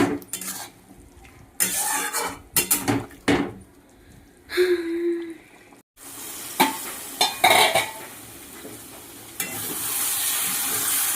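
Soya chunks frying with turmeric in a pan, stirred with a utensil: clattering scrapes and taps of metal on the pan in irregular bursts over a steady sizzle, close and fairly loud, no talking.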